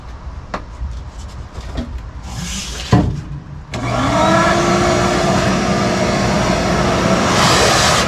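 A shop vacuum cleaner clears screws from a 1956 Chevy truck build, starting after some knocks and clatter and then running loud and steady with a rising whine to the end.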